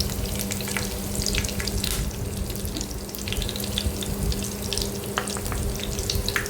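Curry leaves and asafoetida sizzle in hot oil for a chapati chivda snack. A continuous crackling spit stays close and fairly quiet, with sharp pops scattered through it.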